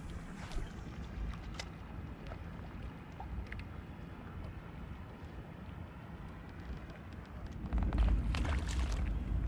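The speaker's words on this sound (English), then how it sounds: "Look at all the boats coming out here." Boat motors rumble low across open water at a crowded trout fishing spot while wind buffets the microphone, the engine noise swelling louder near the end.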